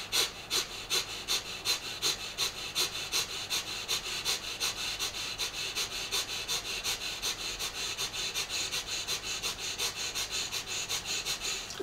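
A person demonstrates a breathing exercise with rapid, rhythmic short breaths through the nose, steady sniffing pulses repeating about twice a second, close and loud, with no talk.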